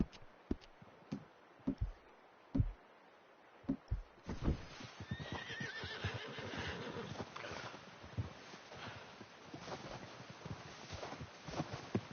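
Hooves clip-clop in scattered steps, then a horse whinnies and snorts amid continued movement and rustling, fairly close with low background wind, in the video game Red Dead Redemption story mode.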